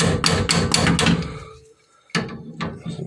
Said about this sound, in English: Sometimes you have to hammer on it just a little bit to free it up.